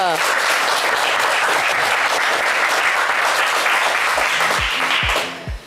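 Studio audience on a game show applauding the selected contestants, a loud, dense wall of clapping that fills the room and then tapers off abruptly at the end, with a voice speaking over the last seconds.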